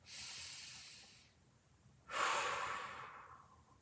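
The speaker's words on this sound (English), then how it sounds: "We'll go 2 more big breaths here." Two big, deep breaths taken during a breathing exercise in a mobility workout class, each a long airy inhale or exhale heard close and fairly soft, separated by a brief pause.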